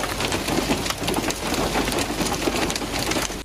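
Heavy rain and hail pour down steadily in Islamabad, a dense, continuous hiss and patter with no break, loud and close throughout.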